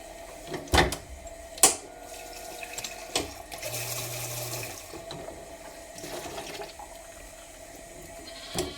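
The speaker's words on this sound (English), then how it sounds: "I'll just let the clean water run through these." Clean water runs through the rubber tubes of a lamb milk-feeding machine, a faint, steady trickle with a few brief louder knocks and splashes near the start.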